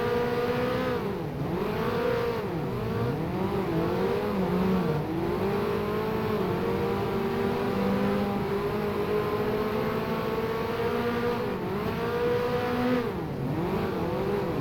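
Front-wheel-drive Mini Stock race car engine in the rFactor sim at Florence Speedway, droning steadily and dipping with each lift before climbing again, continuous and close throughout with no voices.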